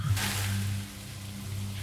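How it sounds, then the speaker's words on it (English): Steady rain falls in a story-driven video game, an even wash of patter with a low hum beneath, no voices. "The rain sounds nice"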